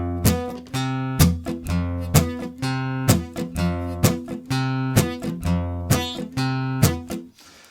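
Acoustic guitar playing a train rhythm on an F bar chord at a slowed tempo, with alternating bass notes on the downbeats and strummed chord hits in a steady, even pattern, played alone and close.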